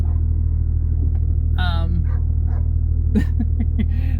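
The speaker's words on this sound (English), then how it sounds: "dog barking over there" A dog barks a few times at a distance over a loud, steady road rumble inside a 1981 Mustang cruising down a highway, with someone talking.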